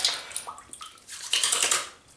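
Hot water splashing and sloshing at a sink during shaving prep with Tabac shaving soap and a stainless steel razor, a close, bright run of irregular splashes and trickles with no talk.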